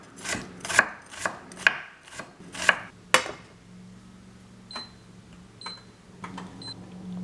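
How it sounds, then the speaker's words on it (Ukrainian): Quick knife chops on a cutting board as an onion is finely chopped, about six sharp, evenly spaced strikes, followed by quieter taps and light kitchen clatter. "Дрібненько так. Нарізати цибульку."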